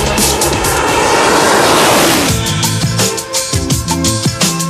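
Brabus SV12 tuned Mercedes SL with its engine enlarged to 6.3 litres, roaring loud and close under hard acceleration, a dense sustained blast that settles into rising, pulsing gear tones with no talking.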